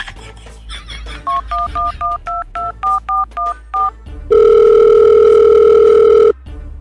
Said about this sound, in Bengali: এখনই 420 কাছে ফোন দি।